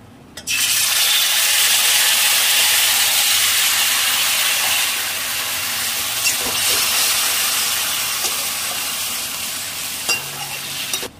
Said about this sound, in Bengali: এবার ম্যারিনেট করে রেখেছিলাম যে চিকেনটা এবার আমি এর মধ্যে দিয়ে দিচ্ছি